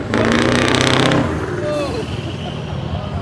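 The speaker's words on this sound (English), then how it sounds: "I didn't hear this truck start up at Peterborough." A big Scania truck engine at a truck show in Ireland revs up loudly with a hissing air release, then settles into a rumbling idle, while a voice exclaims once over it.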